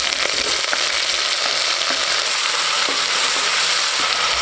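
Tomatoes and curry leaves fry in a pan, making a loud, continuous hissing sizzle up close, with faint occasional scrapes and no voices.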